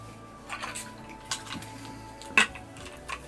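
Glass and dishes clinking softly in a quiet kitchen while getting a drink of water, a handful of light taps and one sharper clink, with faint background hum.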